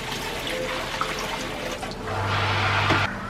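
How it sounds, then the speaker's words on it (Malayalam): Water pours into a bucket for a small guppy aquarium setup, a broad steady splashing that swells louder toward the end, with no voices. "കുറച്ച് വെള്ളം നമുക്ക് ഇതിനും കൂടെ ഒഴിക്കാം."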